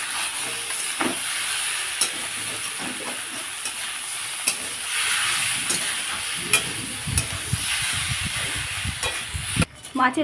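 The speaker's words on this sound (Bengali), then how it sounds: "এই সবজিটা আমি মাছের তেলের সাথে অ্যাড করে দিচ্ছি নেড়ে নেব" Boiled vegetables are stirred into hot fish oil in a pan, giving a steady close sizzle and hiss of frying with scraping stirs of a spatula throughout, briefly cut off near the end.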